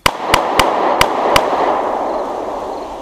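Five sharp, loud cracks ring out in quick uneven succession, then a lingering noisy rumble trails off with no further shots.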